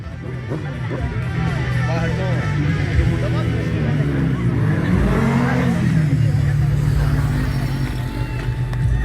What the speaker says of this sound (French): Et puis du drift à basse vitesse.